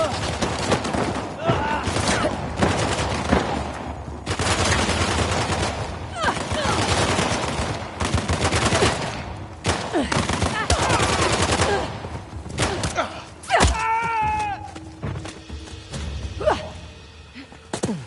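Video game gunfire crackles in dense automatic bursts and single loud shots across a chaotic firefight, with shouted voices mixed into the clatter.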